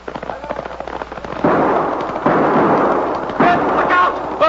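Winchester army rifles fire in a 1953 western radio drama battle scene, a series of loud cracking shots and bursts in quick succession, with crackling echoes rolling between volleys.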